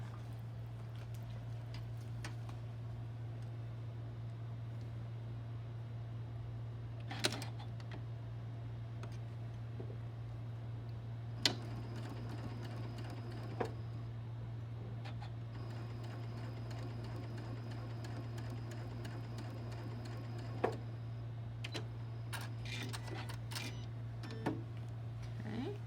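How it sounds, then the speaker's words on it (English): A sewing machine quietly stitches quilt block pieces for a rosebud block, with a steady low motor hum running throughout and occasional faint clicks and taps. "I'm going to sew these together now"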